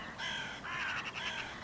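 Hooded crows cawing in a harsh, overlapping chorus, loud and fairly close, with two bursts of calls one after the other and no talk.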